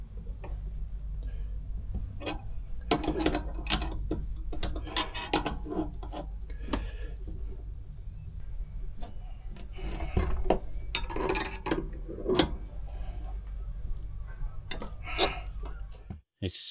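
A bearing puller strains against a warp pulley stuck solid on a machine, giving repeated scraping, rasping and metallic clicking bursts that come in irregular clusters, up close and fairly loud.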